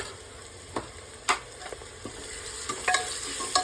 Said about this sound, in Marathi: परतून घ्यायचं आहे व्यवस्थित